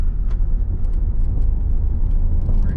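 A car engine hums and rises as the driver accelerates during a driving lesson, a steady low rumble heard from inside the cabin, fairly loud and continuous with no talking.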